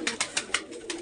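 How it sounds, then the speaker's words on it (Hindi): Pigeons feed on basmati rice, pecking in a quick uneven rhythm of soft taps close by, with a faint coo underneath and no voices. "अपने कबूतर बड़े से चावल खा रहे हैं"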